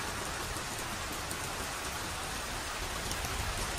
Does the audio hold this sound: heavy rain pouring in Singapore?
yes